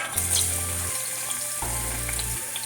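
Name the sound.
onion frying in hot oil for Haitian griot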